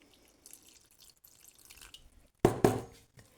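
Warm water is poured from a jug into flour for bread dough in a home kitchen, with quiet trickles followed by two short, louder splashing pours near the end.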